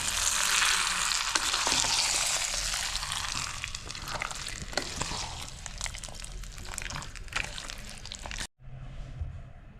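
Chutney of cucumber, brinjal and tomato is poured into a hot pan and stirred, making a loud sizzling hiss with wet scraping and clattering that cuts off abruptly near the end.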